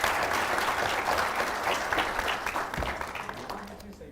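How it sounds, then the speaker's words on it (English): An audience applauds at a healthcare management conference, a dense wash of clapping from many hands that holds steady and then begins to thin toward the end. "A big round of applause for Mr."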